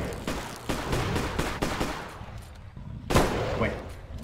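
Gunshots in the video game Bigfoot come as several sharp bursts spaced irregularly, one louder crack near the end, mixed with game ambience and a player's voice talking in between.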